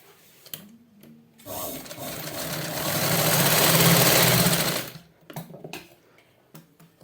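Close sewing machine stitching a piping strip runs in one steady, loud burst of several seconds, bracketed by faint handling clicks and fabric movement before and after.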